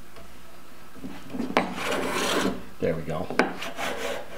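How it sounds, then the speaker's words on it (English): Cabinet scraper blade pushed across a wooden board, a few short raspy scraping strokes with brief pauses between them, close and fairly quiet, with someone speaking briefly. "I'm hearing the scraper blade just touch the surface of the board as I push it across"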